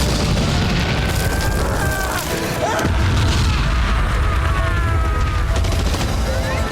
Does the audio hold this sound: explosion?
yes